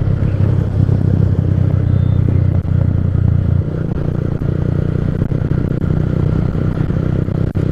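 A Panther motorcycle with a brand-new exhaust rumbles steadily and loudly while riding, with a few faint crackling pops over the continuous engine drone.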